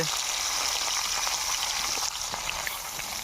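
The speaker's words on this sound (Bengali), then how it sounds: "ওদা মাছ চলে গেছে একদম তেলে একদম দেখো চপ চপ চপ চপ করছে" Fish fry in hot oil with a steady, dense crackling hiss that stays even and fairly close throughout.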